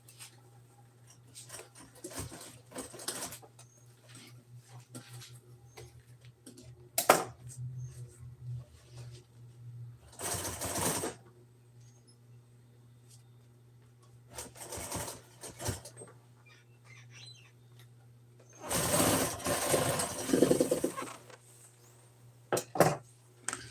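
A sewing machine stitches upholstery pieces together for a backrest in a workshop, running in several short bursts over a steady low hum, with quiet handling noises between runs.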